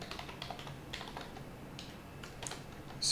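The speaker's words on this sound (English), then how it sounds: "me typing weird" Scattered keystrokes on a computer keyboard during a live programming session on a Linux machine, light and irregular clicks close by, with a louder burst at the very end.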